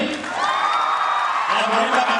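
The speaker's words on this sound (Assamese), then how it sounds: "আকৌ হাত চাপৰি" Audience cheering and applause at an Assamese community function in Kolkata, a steady crowd roar with whoops and a sustained whistle, with an announcer talking over it.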